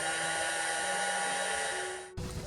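A small Miniso nail dryer blowing with a steady, bright whirring hiss close by, running evenly before abruptly cutting out near the end.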